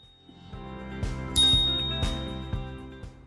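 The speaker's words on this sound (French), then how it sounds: "La sonnette se trouve à l'avant gauche du guidon." Bicycle bell mounted on the front left of the handlebar of a Gaya compact bike, struck several times in a loose rhythm, each a bright close metallic ding with ringing overtones, one louder ring standing out midway.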